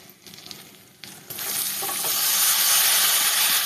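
Chopped bok flowers (sesbania blossoms) dropped into hot oil with fried cumin and coriander powder for a curry, a few quiet clinks and then a sudden loud sizzle that builds into a strong, steady hiss.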